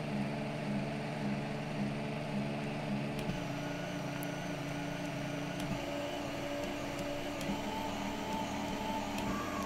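A lathe spindle turns under an electronic leadscrew, giving a low, steady mechanical hum with faint periodic ticks, running alone without talk.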